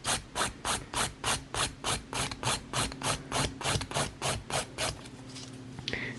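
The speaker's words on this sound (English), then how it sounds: "I'm just going to turn that round just for ease of filing, because we're working on a tip" A nail file rasps back and forth over an acrylic nail tip in about fifteen even strokes, close and moderately quiet, then the rhythm breaks into softer, irregular rubbing.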